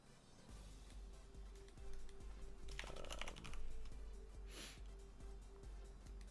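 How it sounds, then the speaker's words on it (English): Typing on a computer keyboard, a steady run of quiet, close key clicks with a few louder bursts of clatter partway through and no talking. "Oh, they're typing."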